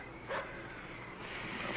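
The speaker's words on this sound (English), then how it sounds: "It's a dog barking at someone." A dog barks at someone near a farm, with a couple of short, somewhat distant barks at the start and again at the very end over a quiet outdoor background.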